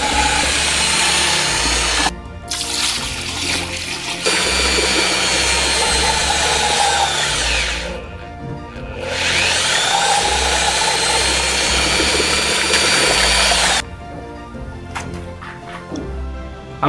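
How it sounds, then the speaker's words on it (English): A handheld power mixer whirs loudly in a bucket of lime wash paint, running in long steady bursts with brief pauses and a change in pitch between runs. "I'm going to mix it all together ready for my lime wash paint to start painting the first coat on the walls."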